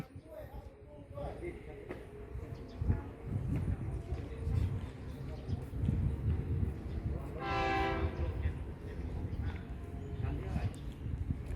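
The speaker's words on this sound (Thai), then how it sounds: "เห็นแล้วนะครับรถดีเซลลาง" A diesel railcar train rumbles by at a junction station with rhythmic clattering, and a loud horn blast sounds midway; voices are heard faintly in the background.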